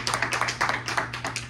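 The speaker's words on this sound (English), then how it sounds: "give God a hand clap of praise." Rhythmic hand clapping from a Primitive Baptist church congregation praising God, a quick series of sharp claps in a steady beat over a low background hum.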